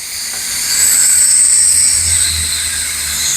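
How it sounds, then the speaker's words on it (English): Steam vents from a pressure cooker of chicken Alfredo during release, a loud, close, continuous hiss that swells slightly and holds steady throughout. "So we're going to finish letting the steam out."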